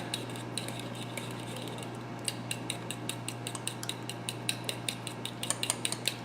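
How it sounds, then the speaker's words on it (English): A fork whisking flax bread batter in a glass bowl for a microwave keto loaf: rapid, light clinks of metal on glass in a quick steady rhythm, close and fairly quiet, growing more pronounced toward the end. "I'm just doing it in my fork. I'm more comfortable mixing it."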